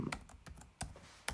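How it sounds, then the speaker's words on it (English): Keystrokes on a computer keyboard as a date is typed in, a handful of sharp clicks in an uneven rhythm, close and fairly quiet, with no talking. "I'm just going to type it in"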